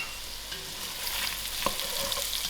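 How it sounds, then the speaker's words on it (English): Potatoes for a spicy potato soup fry gently in a pot, a steady close sizzle running throughout, with one brief stir or scrape partway through. "Ten minutes has passed and my potatoes are fried out"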